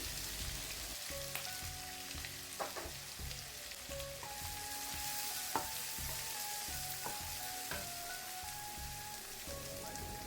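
Chopped onion and three green chilies sauté with cumin in hot oil for a village-style mutton intestine curry, a steady bright sizzle with periodic scraping stirs and clinks of a spatula against the pan, alone and moderately close.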